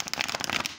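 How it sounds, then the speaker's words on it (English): A stiff new oracle card deck is bridge shuffled, giving a brief, close, crisp ripple of crackling card flicks with no voices. "There's your bridge shuffle."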